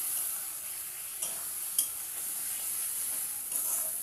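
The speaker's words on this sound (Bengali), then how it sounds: "তাই আমি মশলাটা কষিয়ে নেব সবজির সঙ্গে" Mustard paste and spices fry with vegetables for a Bombay duck fish curry, giving a soft constant sizzle with occasional light stirring knocks from a spoon in the pan.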